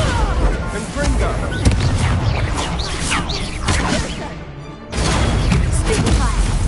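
A Confringo blasting spell in a wizard duelling video game, loud booming explosions and crackling blasts filling the span, with a brief lull before another heavy burst and faint voice-like sounds mixed in.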